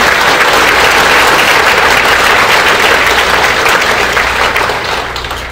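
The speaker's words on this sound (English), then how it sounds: "Let's give a round of applause" Loud, dense applause from a large audience at a state political party convention, steady and sustained before thinning slightly at the end.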